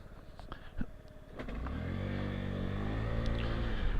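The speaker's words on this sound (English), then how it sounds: "I'm going to ride my tact into work today." A Honda Tact 50cc scooter starts up outdoors after a few clicks and knocks, its small engine catching and settling into a steady, buzzing drone that holds as the ride begins.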